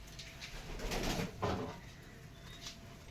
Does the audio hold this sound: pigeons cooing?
yes